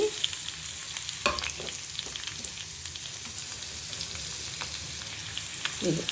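Bitter gourd and onions fry in a pan for a tamarind stew, giving a steady close sizzle broken by occasional scrapes and clicks of stirring, with no talking.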